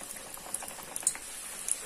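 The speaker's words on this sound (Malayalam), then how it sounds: "എണ്ണ ചൂടായിട്ടുണ്ട്. നമുക്ക് പൊരിച്ചെടുക്കാം." Potatoes for potato brosted frying in hot oil make a faint, soft bubbling crackle, with scattered tiny pops and spits over a low hiss and no talking.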